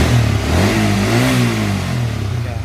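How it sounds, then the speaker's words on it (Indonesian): Honda CBR 150R four-stroke motorcycle on its original exhaust, the engine revving up and easing back in smooth steady swells, loud and close. "ini motor ini Honda CBR 4 tak ya. Kedengaran suaranya sih."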